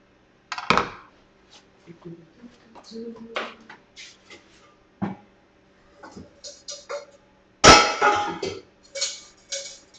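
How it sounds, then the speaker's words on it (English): A metal bowl being handled in a kitchen, scattered close clanks and knocks against surfaces with a loud clatter near the end, amid quiet handling noise. "I'm using a metal bowl with a wide bottom"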